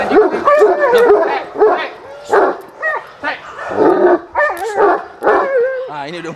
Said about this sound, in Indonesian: Thor gonggong, Spike nyaut